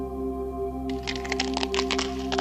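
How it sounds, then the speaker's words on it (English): A sharp series of dry cracks and crunching snaps over a steady low hum, clustered irregularly after a quiet start. "That was the sound of my femur as they lifted me out of the vehicle."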